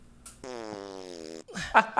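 A single long, buzzy fart from the comedy film White Chicks, close and steady for about a second, followed by a short burst of laughter or exclaiming voices.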